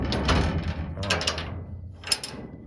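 Metal latches and a heavy door clank and rattle at the back of a horse trailer, with a few loud scrapes and a sharp clunk close by.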